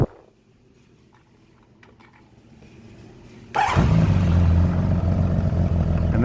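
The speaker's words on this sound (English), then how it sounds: "And that's the way one of our bikes starts." A restored 1979 Honda CBX motorcycle cranks quietly for a few seconds, then its engine fires abruptly into a loud, steady idle close by.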